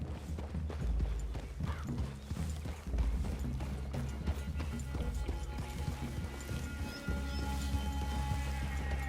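Horses' hooves clip-clop steadily in Red Dead Redemption 2, a continuous rhythmic trot running under a low musical drone at moderate, even loudness.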